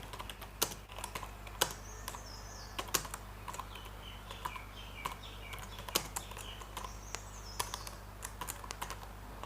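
Steady typing on a computer keyboard, with close, clicky keystrokes in uneven bursts and a few louder taps, over a faint background hum and no talk.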